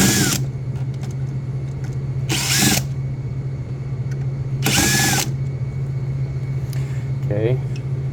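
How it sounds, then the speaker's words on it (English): A power screwdriver backs screws out of a Royal RVV500 vending machine in three short whirring bursts over a constant low machine hum, with small clicks between them. "take these 3 screws out."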